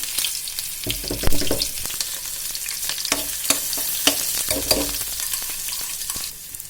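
Cumin and onion fry over low heat in a pan, giving a steady close sizzle with crackles and the scrape of stirring throughout, with no talk.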